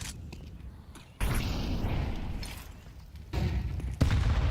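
Grenade blasts and gunfire in a Counter-Strike match, several sudden loud booms and bursts cutting in over rumbling background noise, close and harsh.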